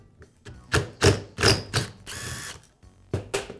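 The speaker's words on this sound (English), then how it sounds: "and then I can remove the screw." A screwdriver works the crankshaft screw loose on a Milwaukee reciprocating saw under repair. Loud, close ratcheting clicks and metallic grinding bursts come in an uneven sequence, one longer buzzing rasp among them, with no talking.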